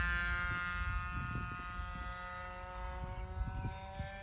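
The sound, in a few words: light aircraft flying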